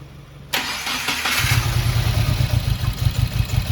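A rebuilt Subaru WRX FA20 engine cranks after a moment of quiet, catches, and settles into a loud, close, throbbing idle rumble.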